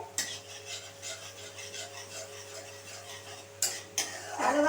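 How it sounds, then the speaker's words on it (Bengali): Coriander leaves and green chilli sautéed in a pan for kalta fish madhukhira, with a soft rasping scrape of a spatula stirring close by and a few sharper clinks of utensil on the pan near the end. "এই ধনেপাতা আর কাঁচা লঙ্কাটা আরও কিছুক্ষণ আমি একটু কষিয়ে নেবো খুব ভালোভাবে"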